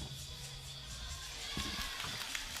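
A crowd at a FIBA 3x3 basketball game in Hamburg, heard as a steady, distant roar of cheering and shouting that swells slightly near the end.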